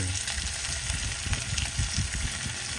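Pork soft bones being stir-fried in a pan, with a steady, close sizzle and frying crackle and occasional soft stirring scrapes, continuous throughout with no talking.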